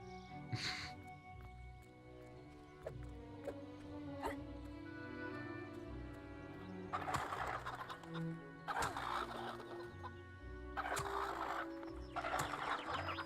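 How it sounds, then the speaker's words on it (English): Chickens cluck in a medieval role-playing video game played on a Steam Deck, with several bursts of agitated clucking and squawking over background game music and ambience, and a dog barking at times. "we've kicked some chickens"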